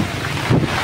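Strong typhoon wind buffets the microphone in a brief low roaring gust that swells midway through, during heavy rain in the Philippines.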